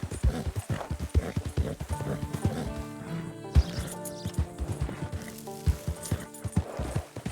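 In Red Dead Redemption 2, horse hooves clop in an irregular rhythm close by, with a horse whinny and snorting mixed in, at fairly low volume.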